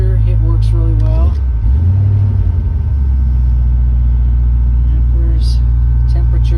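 A 1963 Ford Falcon Futura's engine idling in neutral while warming up, a loud, steady low rumble up close that dips briefly in pitch, with someone speaking over it.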